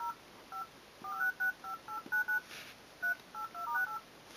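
Keypad tones from a Samsung Wave Y mobile phone, a run of short dual-pitch beeps in uneven rhythm as keys are pressed, fairly faint over a light background hiss.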